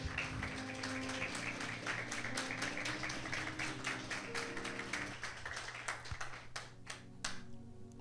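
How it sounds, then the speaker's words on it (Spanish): A Spanish-speaking church congregation applauds in praise to God during a sermon, with steady, fairly faint clapping that thins out toward the end, leaving scattered claps under a low hum. "Den un aplauso al Señor, dele gracias a Dios"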